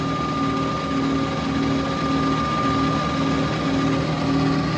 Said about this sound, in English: now I'm just gonna peck through all the way through the part